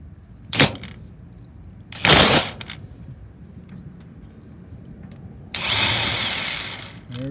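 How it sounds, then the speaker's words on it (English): An impact wrench loosens a shock absorber bolt in short loud bursts: two brief hammering blasts, a pause, then a longer sustained whir, close by with no talk. "Alright, so we got the impact wrench on the bolt."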